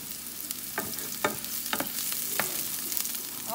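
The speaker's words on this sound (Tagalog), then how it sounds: "Ngayon, nagigisa na tayo ng sibuyas." Sliced onions sizzle steadily in a hot pan for Filipino chicken liver and gizzard adobo, with occasional stirring scrapes breaking through a continuous frying hiss. It is close and moderately loud, with no talking.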